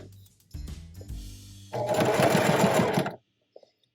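A sewing machine runs in one loud, steady burst of stitching for over a second while sewing an inverted notched collar, with quieter handling noises before it and a brief click afterward.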